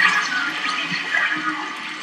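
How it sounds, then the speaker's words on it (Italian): A steady rush of running water in Luigi's Mansion 3 after a tap is switched on, a continuous hissing gush that holds level and close for about two seconds, with no voices. "Oh, oddio, no, ho attivato l'acqua"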